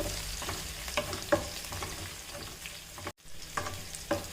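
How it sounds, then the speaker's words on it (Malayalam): Chopped shallots and curry leaves fry in hot oil over popped mustard seeds, a steady close sizzle broken by the scrape of stirring and a brief pause near the end. "കടുക് പൊട്ടിയതിനകത്തോട്ട് ഞാൻ ഉള്ളി അരിഞ്ഞതും കറിവേപ്പിലയും ഇട്ട് കൊടുത്തിട്ടുണ്ട്"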